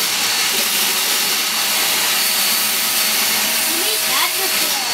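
Pooda D9 budget 2-in-1 cordless vacuum cleaner runs with a brush tool attached during a suction test, giving a loud, continuous high-pitched whine and airy hiss for the whole stretch.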